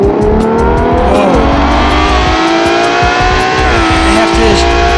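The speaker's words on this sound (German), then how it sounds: "Das ist ein Aston Martin Vulcan." A loud, high-revving Aston Martin Vulcan supercar engine roars and screams nearby, rising and falling in pitch as it accelerates, with crackling exhaust throughout.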